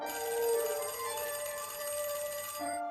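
A public payphone ringing with a steady electronic trill that runs almost three seconds, then breaks off briefly and resumes, fairly clear and close.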